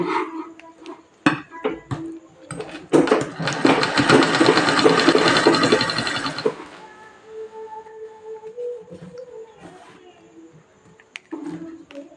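A sewing machine stitching fabric for a six-year-old girl's frock runs in one dense, rapid whirring burst of about three seconds, with a person talking before and after it.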